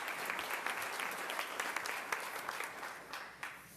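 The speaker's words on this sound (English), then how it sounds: "Let's give her a round of applause." Audience applause at a school board meeting honoring a retiring staff member, steady crisp clapping from a room of people, fairly distant and sustained, tapering slightly toward the end.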